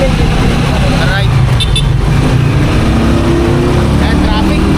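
Busy road traffic with cars and engines rumbling continuously, loud and close, with voices talking over the noise.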